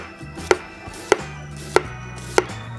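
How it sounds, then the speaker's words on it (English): A knife slices a red onion into thin rings with four crisp, evenly spaced cuts, each a sharp close tap against a quiet background, with no voices. "just slice off thin onion rings"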